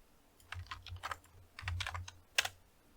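Someone types on a computer keyboard while working in a PowerShell session, with quick irregular bursts of clicky keystrokes close up and a sharper key strike near the end.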